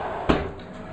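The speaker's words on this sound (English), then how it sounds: "Get the second sheet of glass out," A sheet of glass is set down onto a paper-covered guitar pickguard, giving a single short knock partway through, close and moderately loud, followed by quiet room tone.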